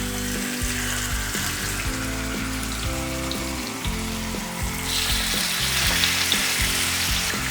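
Marinated chicken frying in hot sunflower oil for green hariyali chicken, a loud, continuous close sizzle with occasional clinks and shifts of the pan.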